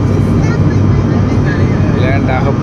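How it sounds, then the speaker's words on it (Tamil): Inside a flight descending to land at Goa airport, a loud, steady cabin roar of engines and airflow fills the whole stretch, with a faint higher whine rising near the end. "இறங்கிட்டு இருக்கு ஃப்ளைட்டு,"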